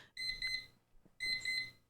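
An alarm beeps in two quick bursts of rapid, shrill electronic beeps separated by a short pause, faint and without talk.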